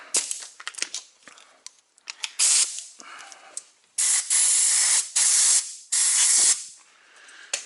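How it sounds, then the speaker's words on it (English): Bursts of aerosol lube sprayed onto the four-wheel drive parts of a Ford F350 during brake and wheel bearing work, several hissing blasts of one to two seconds each, close up, with short clicks and pauses between them. "I'm just gonna spray a little bit of lube up in there to help this slide"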